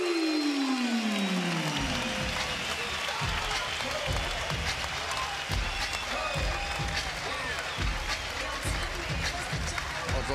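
A boxing crowd applauds Jörgen Kruth's unanimous-decision win over Francois Botha, a dense sustained roar of clapping and cheering with a commentator speaking over it throughout.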